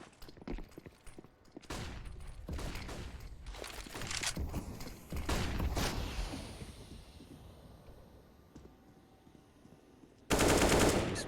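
Gunfire rings out in a Counter-Strike match, with a rush of upgraded pistols on the Vertigo map: quick bursts of rapid shots, hurried footsteps, and a loud blast of shooting near the end.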